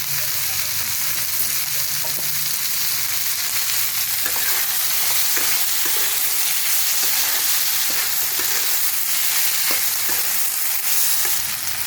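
Cauliflower dalna cooking with a spoon of ghee, a loud continuous sizzle and frying hiss with faint spoon scrapes throughout and no talk.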